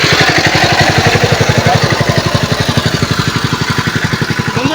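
A motor van's engine putting along as it arrives carrying an amplifier sound setup, a loud, close, rhythmic low thumping chug that runs steadily throughout.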